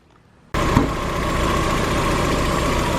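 A Mazda Eunos Miata engine starts and settles into a steady, even idle, close by and fairly quiet, with a brief knock as it catches.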